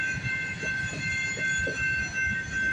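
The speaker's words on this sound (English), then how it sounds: "This train might be CPKC 231, I think." CPKC 231 manifest freight train passing with a BNSF unit at the Guelph Line crossing in Campbellville, a steady rumbling roll with periodic clunks from railcars, heard at moderate distance and with no talk.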